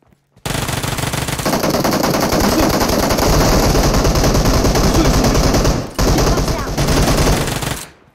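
Rapid automatic gunfire in the mobile battle royale game PUBG Mobile, loud and nearly continuous bursts with a brief pause near the end, with faint game voices underneath.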